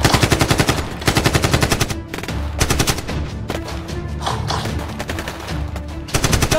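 Rapid bursts of automatic gunfire in Free Fire trade back and forth, loud and close, with short pauses between volleys and scattered single shots.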